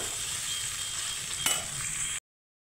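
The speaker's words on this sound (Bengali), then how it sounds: "কাঁঠাল আর সয়াবিনটা ভালোভাবে আমি সুন্দর করে নেড়ে চেড়ে একটু ভেজে নেব" Boiled jackfruit and soya chunks lightly frying in a pan, a steady soft hiss of oil for about two seconds with one brief scrape of stirring midway.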